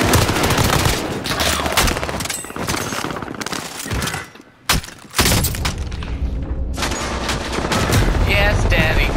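Gunfire in the video game Call of Duty: Modern Warfare, with dense, loud rapid shots and booming impacts that briefly drop out before resuming, under a player's voice.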